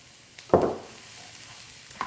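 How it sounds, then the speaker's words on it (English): Rice tipped into a pan of sizzling onion and pepper juices lands with a single sharp burst of sizzle, which quickly dies down to a low frying hiss. "Now I'm going to throw all my rice in."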